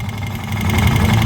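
An engine idles and runs in gear with broken front and rear drive shafts, giving a steady, loud low rumble with a faint knocking vibration throughout.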